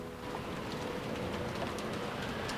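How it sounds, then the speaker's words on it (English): Rain in the visual novel Umineko When They Cry falls as a steady, dense hiss and patter of rain on surfaces, continuous and fairly loud throughout, with no voices. "George, Aniki, and I flew out into the rain."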